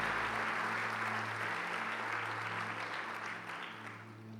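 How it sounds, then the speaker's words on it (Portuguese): A church congregation applauds together in a steady wash of clapping at moderate distance, with a low mains hum underneath and the clapping easing slightly toward the end. "dê a Jesus uma linda salva de palmas"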